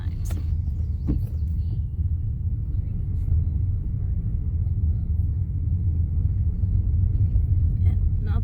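A car driving on a road at steady speed gives a continuous low engine and road rumble from inside the cabin, loud and unbroken throughout, with a couple of faint ticks near the start.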